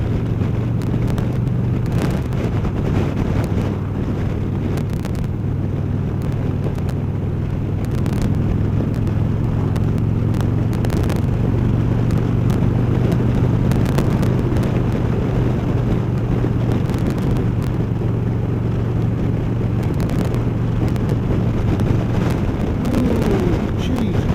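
Strong wind roars and buffets the microphone during a motorcycle ride on an open road, a loud, continuous rush over a steady low engine drone for the whole stretch.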